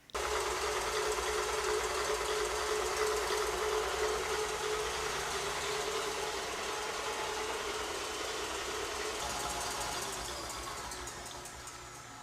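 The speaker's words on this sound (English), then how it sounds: "Now let's put this in the mixer." An electric mixer whips egg whites for a cheese soufflé, a steady high motor whir running continuously and fairly close, easing slightly toward the end, with no talking.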